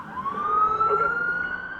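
A police car siren wails steadily as police cars pull away from a movie theater in Aurora, a single sustained tone rising slightly in pitch, heard at moderate distance over low traffic rumble.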